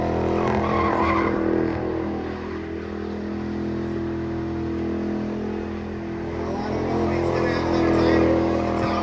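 A 1969 Dodge Charger holds a burnout, tires screeching in a long sustained squeal over a heavy engine drone that swells and eases, with people talking over the noise.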